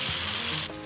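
Water pours into a hot pan of pork-stuffed spring bamboo shoots frying in oil, setting off a brief, bright burst of sizzling and steam close by.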